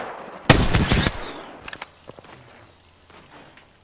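A sharp, loud burst of rapid gunfire in the video game Apex Legends, followed by scattered fainter shots, clicks and footsteps fading out over a few seconds.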